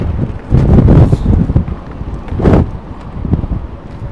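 Gusty wind buffets the microphone at London Heathrow Airport, roaring in broad bursts around half a second and again near two and a half seconds, then easing to a steadier rumble.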